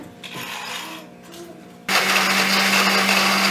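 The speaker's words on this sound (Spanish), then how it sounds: "Y lo pasamos a la licuadora." A blender suddenly switches on and runs with a loud, steady whirring roar, blending an ancho chile salsa, after a quieter stretch of background noise.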